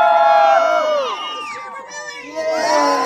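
Crowd at an outdoor lumberjack show cheering loudly for a competitor named Johnny, whoops and shouts with children's high voices rising and falling, fairly close.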